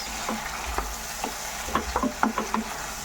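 Squid and shrimp in their ink are stirred in a pan with oyster sauce and soy sauce, the spoon scraping and clacking in an irregular rhythm over a soft, steady sizzle, close and clear.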